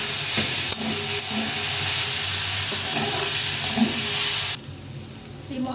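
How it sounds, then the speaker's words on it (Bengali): Spiced greens seeds cook down with water in a pan, giving a loud, even hissing sizzle with a few stirring knocks, then the sound drops off abruptly to a low background. "জল দিয়ে কষিয়ে নেব।"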